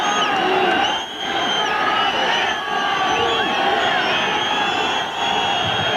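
Rugby crowd at the Gnoll in Neath, a club match against South Africa, whistling at the referee: a steady wash of many high whistles over dense crowd roar, continuous and loud throughout.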